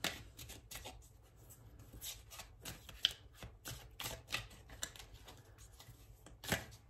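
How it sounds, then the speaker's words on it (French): Tarot cards being shuffled, a close, quiet sequence of crisp papery flicks and riffles with a few sharper snaps, no voices present. "on va reprendre une dernière carte de tarot"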